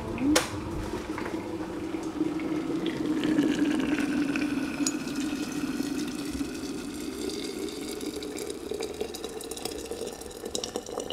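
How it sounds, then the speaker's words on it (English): Water boiling for tea in Sri Lanka, a steady bubbling and rushing hiss with faint clinks, moderately loud and continuous throughout. "water is boiling."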